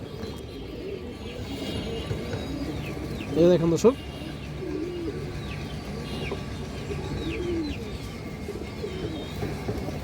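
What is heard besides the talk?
high flyer pigeon cooing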